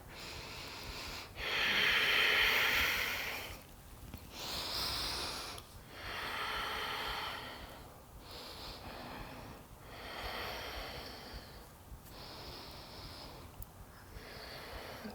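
Deep, slow yogic breaths during practice, a strong inhale followed by a run of rhythmic, airy exhales and inhales of roughly a second or two each, close and breathy, with no speech.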